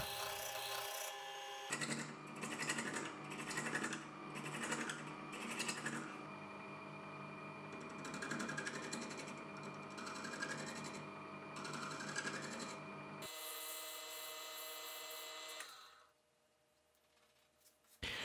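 A steady mechanical whir of a grinder sharpening a woodturning tool, with bursts of scraping and grinding over a constant tonal hum, then winding down near the end.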